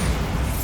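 Bombarda blasting spell in Hogwarts Legacy going off as a loud, dense explosive boom that fills the whole short moment with a rumbling burst.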